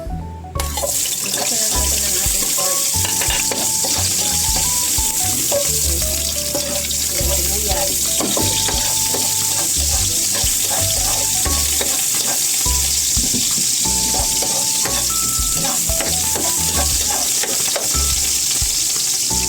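Pork frying in a pan for binagoongan, a loud steady sizzle and crackle throughout, close, with clanks of stirring and faint background music underneath.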